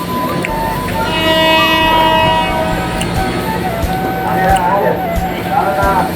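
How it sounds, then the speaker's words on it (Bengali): A train passes the Jurain rail gate in the morning: a loud drawn-out horn blast sounds first, then heavy rumbling and clattering of the wagons rolling by nearby. "দেখেন আর একটা ট্রেন যাইতেছে,"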